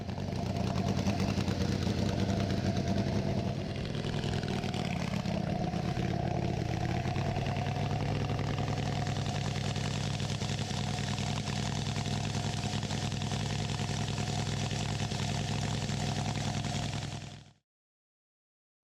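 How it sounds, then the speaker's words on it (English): An air-cooled, overhead-valve five-cylinder 750 cc radial motorcycle engine idles steadily at close range, a continuous low rumble running uninterrupted for about seventeen seconds, then cutting off abruptly. "The engine is an air-cooled, overhead valve, 5-cylinder radial unit of 750 cc's."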